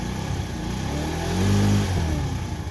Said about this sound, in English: So you can hear the engine sounds nice and clean